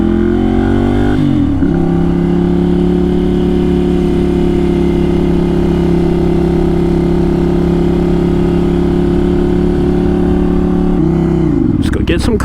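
A motorcycle engine runs steadily and loud up close, with a shift in pitch at the start as it settles and another change near the end, a constant droning hum throughout.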